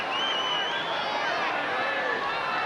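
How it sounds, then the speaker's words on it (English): Football crowd at Football Park, Adelaide, during a 1993 AFL match between Adelaide and Collingwood, a loud, sustained roar of shouting voices that fills the air without a break. "And this crowd crying for everything at the moment"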